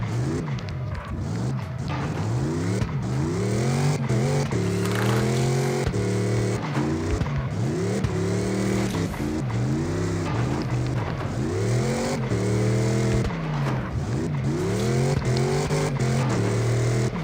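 Car engines in the racing video game CarX rev and drop again and again, giving a loud, continuous drone of rising and falling engine pitch through repeated gear shifts, with no talking.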